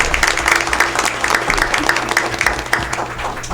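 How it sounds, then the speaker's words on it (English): Steady applause from a crowd, many hands clapping continuously throughout. "a great big round of applause"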